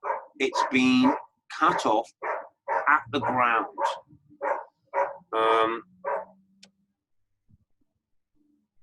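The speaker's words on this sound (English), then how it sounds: "my neighbour's dog barks at every single car that goes past" A neighbour's dog barking in rural woodland, sharp barks mixed into and partly under a man's nearby speech.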